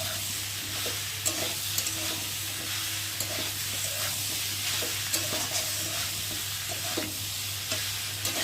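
Boiled soybean chunks frying with potatoes and spices in a pan, giving a steady, dense sizzle throughout, with light scraping stirs and small clicks of a spoon on the pan scattered over it.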